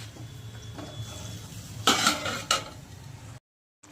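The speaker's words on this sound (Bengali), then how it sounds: "এবার আমি ঢাকা দিয়ে দিচ্ছি" A lid goes onto a cooking pot of potato and prawn-egg curry, two sharp metallic clatters landing close over a steady low hum, then a cut to silence.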